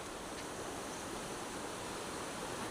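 The overflowing Ghelo river rushes over its banks and across a road, a steady broadband roar of flowing water, continuous and even, heard alone without talk.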